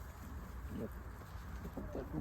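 Soft, low pigeon coos repeat a few times over a steady background hum, muffled and somewhat distant.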